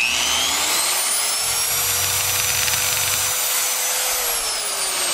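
A Chicago Tools hammer drill from Harbor Freight bores holes into masonry with a loud, steady high-pitched whine that ramps up, holds for several seconds, then winds down.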